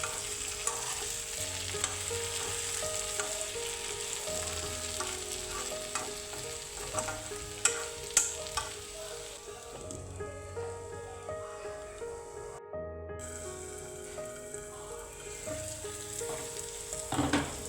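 Potato pieces sizzle in a pan for Kerala-style potato mezhukkupuratti while a spoon stirs them, with steady frying hiss and repeated scraping strokes close up and no talking.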